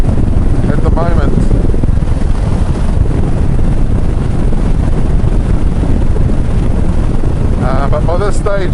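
A motorcycle ridden at low speed, its engine rumbling steadily beneath heavy wind buffeting on the microphone, loud and close throughout.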